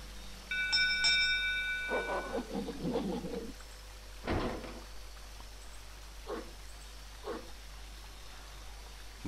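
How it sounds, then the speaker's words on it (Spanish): A doorbell in the adventure video game Jack Keane chimes near the start with bright ringing tones, followed by several short scattered knocks and clatters over quiet ambience. "vamos a tocar el timbre"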